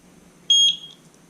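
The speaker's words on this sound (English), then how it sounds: "press and hold the sync button until I hear a beep" A single short electronic beep from a Eufy Solo OutdoorCam Pro C24 security camera during sync, high-pitched and clear, lasting about a quarter second over a quiet room hum.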